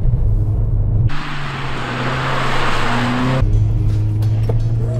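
A front-wheel-drive car slides into a corner while drifting, its engine roaring loudly and steadily up close, with tire noise broadening into a harsh wash mid-clip before easing back.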